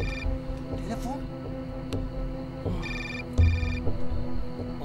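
A phone rings with a repeating electronic ringtone in short melodic bursts, heard under people talking nearby.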